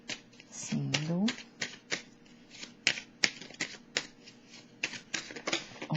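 Tarot cards being shuffled by hand, a run of crisp, irregular flicks and snaps close by, with a brief voice sounding early on.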